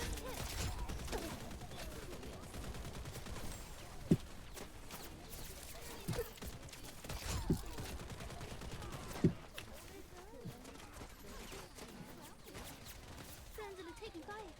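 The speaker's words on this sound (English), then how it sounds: "Friends are taking fire." Gunfire in the video game Wild Assault: a steady low battle rumble with scattered distant shots and several sharper, louder single cracks spaced a couple of seconds apart, under a noisy in-game soundscape.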